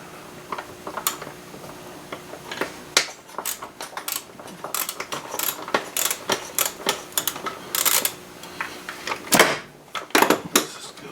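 A ratchet wrench clicks through rapid bursts of ticking as intake bolts come off a 2004 BMW 325xi engine during a rebuild, close and crisp with short pauses between strokes.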